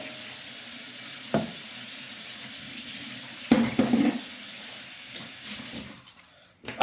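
Water runs steadily from a tap into a kitchen sink while a $7 Kmart 2-in-1 pull chopper is rinsed, with a few clunks and splashes as it is handled.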